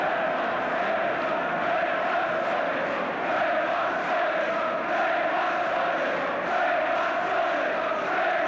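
A football crowd at Wembley Stadium, Villa against Norwich in 1975, keeps up a loud, continuous roar of massed shouting and chanting, steady and dense throughout with no pauses.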